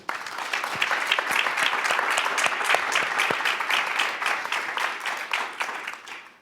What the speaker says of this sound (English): I was going to ask for a round of applause, but we already have the round of applause.